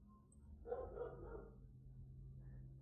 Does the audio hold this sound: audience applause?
no